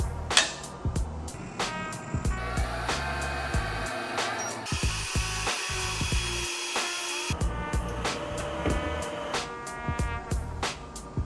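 An xTool F1 Ultra laser engraver at work on stone, a whining, buzzing machine tone with quick ticking pulses and shifting pitch, steady and close for several seconds.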